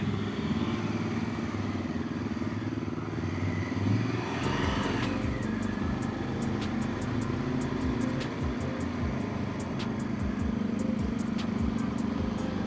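Harley motorcycles rumble steadily close by, a deep continuous engine drone with a louder pass partway through and some faint clatter over the top.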